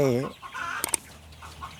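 Penned chickens on a farm give a short clucking call at the start, followed by quieter squawks and faint rustling, with a couple of sharp clicks in the middle.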